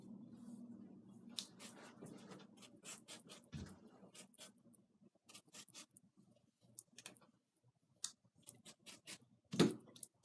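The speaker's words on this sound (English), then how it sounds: "take your scissors" Quiet, crisp snips of scissors cutting wig hair come in irregular bursts, some quick clusters and a sharper cut near the end, with soft rustling between.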